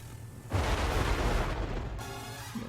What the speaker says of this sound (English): Explosion there.